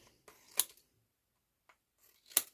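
Scissors trim the borders off paper for a handmade travel folio, two quick crisp snips about two seconds apart, close and clear in a quiet room.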